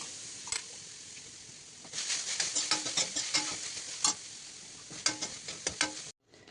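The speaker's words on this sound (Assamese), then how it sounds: "ইয়াতে মই নাৰিকলখিনি ভাজি মেলি লওঁ" Grated coconut fries in a wok for patishapta pitha: a soft sizzle, then from about two seconds in a busy run of close scraping, stirring strokes, which stop abruptly near the end.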